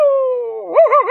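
A man imitates a dog with his voice, a drawn-out howl-like tone sliding down and ending in a few short wavering yelps, close and loud.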